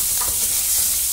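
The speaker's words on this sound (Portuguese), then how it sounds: "E eu já vou começar fritando aqui a minha calabresa pra ela também soltar um pouco" Sliced calabresa sausage frying in margarine in a pan, a steady, loud, close hiss of sizzling fat with faint stirring sounds and no voices.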